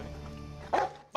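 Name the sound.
dog barking during bite-proof jacket test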